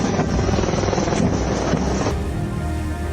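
Indian Air Force fighter and support aircraft fly past at the Republic Day parade: a loud, continuous, close engine roar with a steady throbbing rumble that drops to a duller, softer tone near the end, with no talking.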